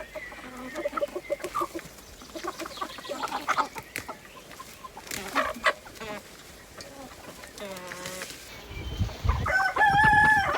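Backyard chickens cluck in short, repeated bursts, with a rooster crowing near the end, all fairly close.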